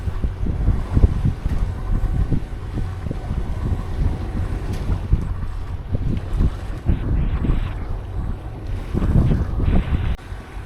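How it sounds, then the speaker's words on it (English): Sailboat motoring past the main town on Spetses Island, Greece, with a steady low engine and water rumble under heavy gusting wind buffeting the microphone, fairly loud and continuous throughout. "We're just doing a motor past the main town on Spetses Island"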